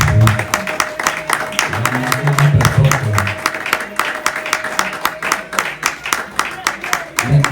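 An audience at a business grand opening claps and cheers in a steady round of applause, fairly close and lively, with voices mixed into the crowd noise.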